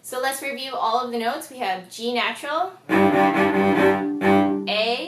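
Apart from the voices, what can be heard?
No distinct noise like a dog, phone or traffic.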